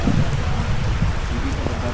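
Steady rain falls during a wet outing to Baangan, a dense, even hiss that runs unbroken through the short moment with no gaps.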